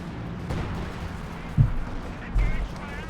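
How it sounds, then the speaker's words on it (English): Howitzer and Sturmpanzer artillery barrage in the Company of Heroes 2 video game, two muffled low booms about a second apart over a steady background of distant battle noise, with commentary voiced over it. "Panzer ready with another barrage. Howitzer is still trying to hit something."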